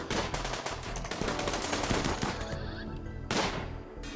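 Rapid bursts of gunfire crackle in a RimWorld battle, dense volleys of shots filling the scene, with a final loud burst before it thins out.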